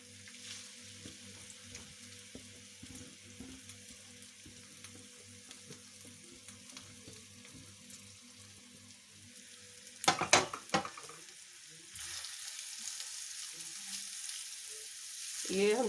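Vegetables fry gently in oil over a low flame for a vegetable omelette, giving a faint, steady sizzle, a brief burst of clattering stirring midway, and a louder hiss near the end.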